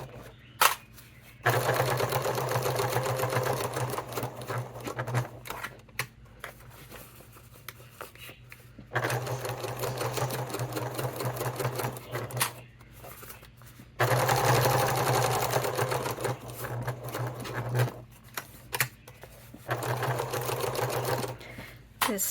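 A sewing machine runs in long steady bursts of rapid stitching along a leather wallet seam, stopping and restarting several times with short pauses between runs, close and fairly loud.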